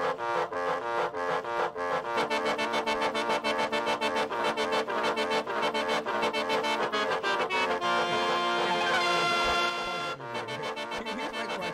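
A novelty musical horn plays a fast, loud melodic tune of bright repeated notes, running steadily for about ten seconds before a short pause and a brief resumption.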